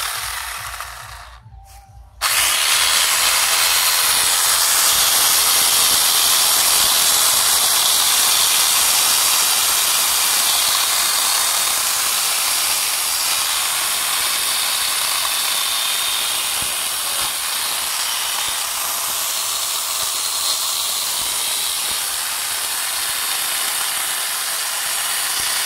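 Chainsaw attachment fitted to an angle grinder cutting through wood, a loud continuous high-pitched whine with a rough chattering edge that runs unbroken for over twenty seconds after a brief start.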